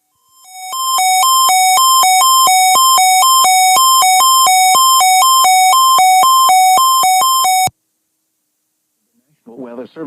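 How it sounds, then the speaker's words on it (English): Weather Service radio warning alarm: a loud, steady two-tone electronic warble alternating rapidly and continuously for about seven seconds, cutting off abruptly, followed by silence and a brief voice starting. "Weather Service radio warning alarm feature"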